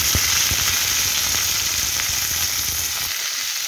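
Mixed vegetables dropped into hot oil for a stir-fry, giving a loud, dense, continuous sizzle with a few soft clicks of stirring, close up and without speech.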